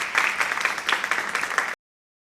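An audience at a municipal seminar session applauds, a dense, even patter of many hands clapping that stays steady, then stops abruptly.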